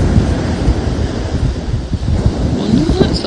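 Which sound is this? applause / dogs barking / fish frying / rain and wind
rain and wind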